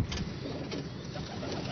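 A female pigeon coos softly and close, a low murmuring call over a steady background hum, with no talk.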